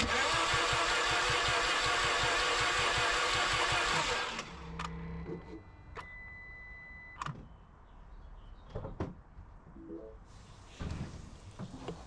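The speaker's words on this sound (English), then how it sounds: "I'll turn over the engine a few times" A Mini Cooper S engine cranks loudly and rhythmically for several seconds, then stops, followed by scattered clicks and clunks at lower volume.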